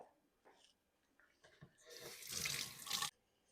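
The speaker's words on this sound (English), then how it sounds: "Wash my hands and off we go." Hands being washed under a running kitchen tap before cooking fried rice; the water stream swells into a loud, steady gush for about a second near the end, then cuts off abruptly, with softer handling sounds before it.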